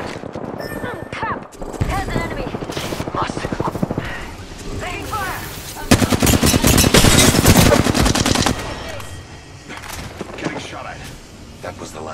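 Gunfire in the Apex Legends video game, with scattered shots early, then a loud sustained burst of rapid automatic fire in the middle before it tapers off, mixed with in-game voices and effects.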